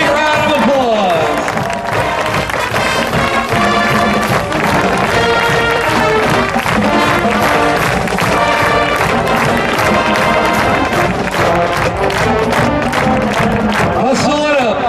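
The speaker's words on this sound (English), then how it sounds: "Big round of applause." A crowd at an opening performance event applauds volunteers and field instructors, loud continuous clapping and cheering with voices mixed throughout, sustained for the full length.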